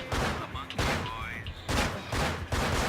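Gunfire in the video game Manhunt: several loud rattling bursts of shots in quick succession, broken by short gaps, with a voice talking briefly in between.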